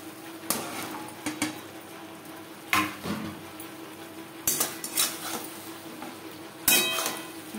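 Snake gourd pieces stirred into frying spices in a pan, with scattered metal clinks and scrapes of a utensil against the pan over a low background sizzle, no talk.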